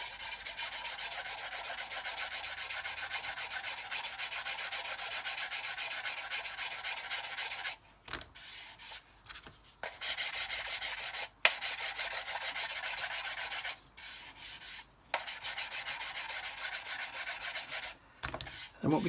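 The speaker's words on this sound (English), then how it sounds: "Just literally letting it touch rubbing it over very gently." A sanding stick rubbed very gently, with no pressure, over Mr. Surfacer primer on a model kit build, giving a steady soft scratchy rasp that runs continuously, then breaks into short strokes with brief pauses, close and quiet.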